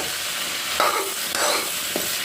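Cauliflower curry frying and sizzling in a pan, with a steady hiss and a few scraping stirs of a utensil, close and fairly loud, with no voices.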